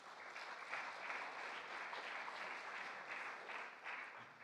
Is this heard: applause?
yes